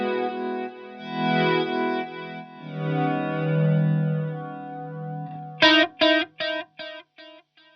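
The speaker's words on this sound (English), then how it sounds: "we change back to a clean sound and kick on the delay and flanger again" Clean electric guitar chords from a song swell up slowly with a sweeping, swirling flanger tone, then a struck chord repeats as fading delay echoes.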